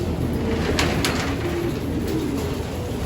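Young racing pigeons coo in a loft with soft, overlapping murmurs that continue steadily, set against a constant room hum, with a few brief brighter scuffs or flutters.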